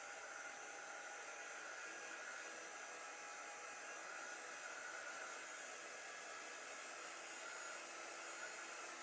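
A hair dryer blows steadily while drying chalk paint on a craft face, a constant faint whirring hiss with no change for the whole stretch and no talk.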